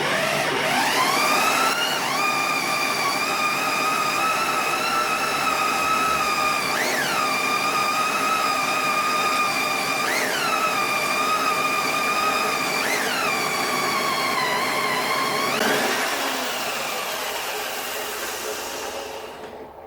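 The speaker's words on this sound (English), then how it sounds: "I'd probably give this little drill a breather halfway through." Small power drill driving a Malt Muncher grain mill at around 200 rpm, a steady loud whining motor drone with a few brief dips in pitch as the load shifts, running alone for about twenty seconds.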